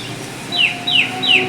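An unidentified bird calls three times in a row, each a clear, fairly loud downward-sliding note, spaced about half a second apart, near and alone with no talk over it.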